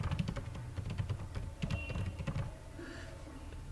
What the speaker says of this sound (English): Suppose here we type my name and then tab.